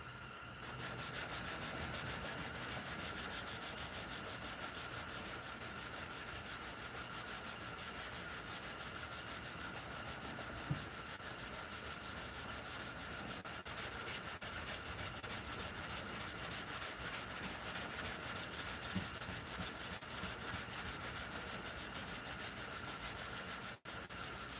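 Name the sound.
hand sanding wood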